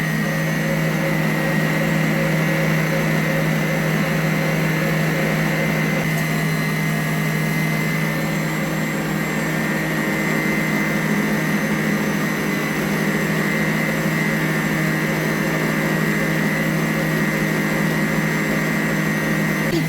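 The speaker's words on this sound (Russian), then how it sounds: "Потому что миксер мощный, белок уже взбился" A powerful electric stand mixer whipping egg whites whirs continuously at high speed with a steady motor hum and whine, loud and unchanging throughout.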